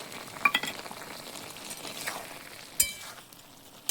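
Chickpeas and tomato with salt and turmeric fry softly in a pan, giving a quiet sizzle broken by a few sharp clinks of a utensil against the metal.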